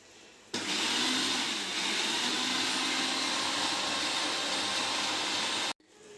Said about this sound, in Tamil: மிக்சியில் போட்டு வச்சுருக்கோம். இப்போ இதை அடிக்க போகிறோம்.